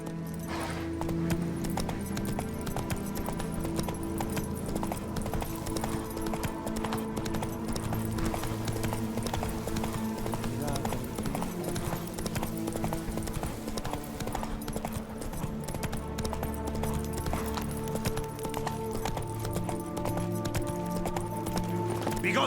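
Roach the horse gallops with rhythmic clip-clopping hooves in The Witcher 3, steady and continuous beneath a dense layer of game music and ambience.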